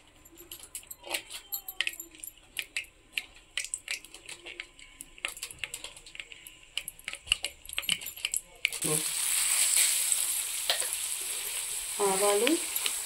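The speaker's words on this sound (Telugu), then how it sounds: "తాలింపు కోసం ఆయిల్ వేస్తున్నానండి." Oil heating in a pan for tempering a tomato chutney, with scattered crackles and pops at first that build into a loud, steady sizzle in the last few seconds, close by with no talk.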